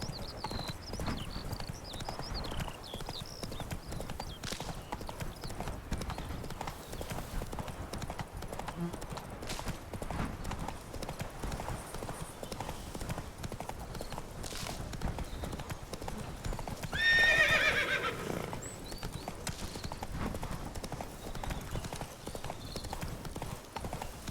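Steady clip-clop hoofbeats of a galloping horse in The Witcher 3 run throughout, with a brief whinny rising near the end over continuous game ambience and occasional faint voice.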